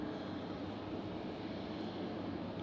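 A Boeing 737 MAX 8 passes at a distance, heard as a steady, low, broadband engine roar that stays even throughout without clear rise or fall.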